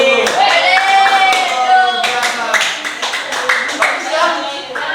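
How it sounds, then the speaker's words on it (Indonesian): A classroom of students claps together after a presentation in an Islamic history lesson, a loose burst of hand claps mixed with children's voices and a sustained sung or called tone, close and loud. "Cukup, tepuk tangan."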